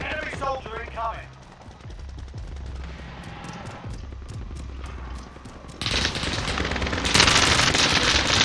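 Rapid automatic gunfire from a Call of Duty Warzone match, with dense bursts of shots continuing throughout and getting louder and harsher toward the end, over busy in-game noise.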